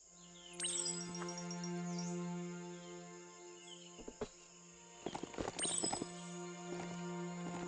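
Clip-clop hoofbeats of a large hoofed mount creature in the Biomutant video game, a few scattered footfalls over steady game music and an insect-like ambient drone, with no talk.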